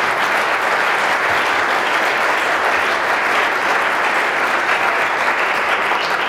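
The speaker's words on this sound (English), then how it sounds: "go ahead, you can clap for that." Sustained audience applause during an ambassador's farewell address in Berlin, a dense, steady clapping from a large crowd that stays loud and even throughout with no break.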